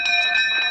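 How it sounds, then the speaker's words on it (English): Doorbell in the 1985 film Clue, a bright sustained electric ring with steady tonal overtones, loud and alone for under a second. "The doorbell's actually ringing."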